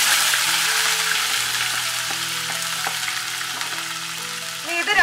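Finely chopped ginger and garlic sauté in a pan for a Kerala-style egg roast, with a continuous even sizzle and light stirring, a gentle tune faintly underneath and a small flare of noise at the end.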